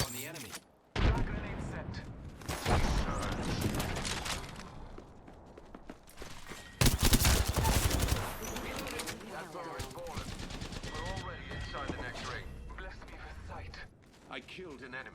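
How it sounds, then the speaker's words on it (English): Gunfire in a first-person shooter video game, bursts of shots mixed with dense game effects and music, with a player talking over much of the action. "Opening fire on the enemy."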